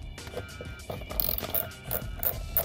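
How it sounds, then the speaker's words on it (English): A metric ratchet socket wrench turning bolts while lowering a Honda Navi gives a run of close, dry clicking pawl ratchets in short bursts, with no talking. "Can't find my 8mm socket, so I have a metric"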